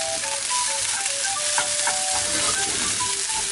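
Steady loud sizzle of fried rice with spring onions being tossed in a hot wok, continuous frying hiss with scraping stir strokes throughout and no talking.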